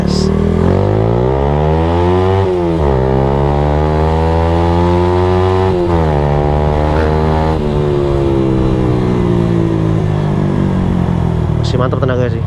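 Honda Nova Sonic RS 125 motorcycle engine with original carburetor revving hard through repeated rising pitch sweeps as it accelerates and shifts, loud and close, with a voice briefly heard.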